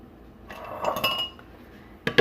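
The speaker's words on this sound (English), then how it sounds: "I'm going to grab a plate and cover it so no fruit flies can get in there" A plate set over a kombucha jar, a few close ceramic and glass clinks and a scrape, brief and moderately loud, with a sharper knock at the end.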